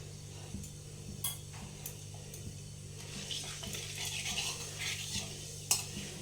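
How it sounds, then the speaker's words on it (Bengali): Panch phoron whole spices stirred in a pan of heating oil for a Bengali kohlrabi and potato dish, a soft continuous scraping with light utensil taps and a faint steady sizzle, close and moderate, no talking. "এইভাবে নাড়াচাড়া করে নিতে হবে তেলটা গরম করে।"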